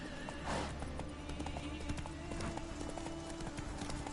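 A horse gallops in The Witcher 3 with a steady rhythmic clip-clop of hooves at moderate volume, over a low game ambience and occasional soft speech.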